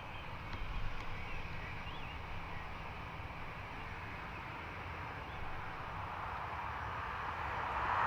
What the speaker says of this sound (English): Ryanair is off to Manchester, and the Aer Lingus behind it is going to London Heathrow